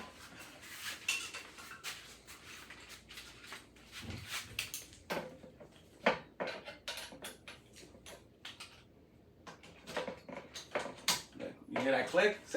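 Scattered sharp clicks and light metallic knocks come from a Wattobizz cross-stitch floor stand as its telescoping parts are adjusted and tightened. They arrive irregularly at close range, with a cluster near the end.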